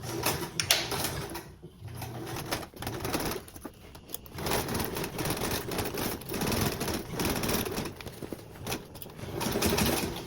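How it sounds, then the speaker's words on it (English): A sewing machine stitches a tote bag seam at a quarter-inch allowance, running in a steady, close, continuous burst with brief pauses, loud and alone without talk. "remember we're sewing with a 1/4 seam allowance."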